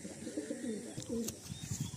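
A pigeon coos softly and repeatedly in low, rolling phrases, close but faint, with a few light clicks and no speech.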